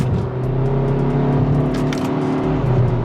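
A 2021 Hyundai Sonata Limited engine drones steadily from inside the cabin as the paddle shifters are used, with a constant mid-level hum and faint shifts in tone.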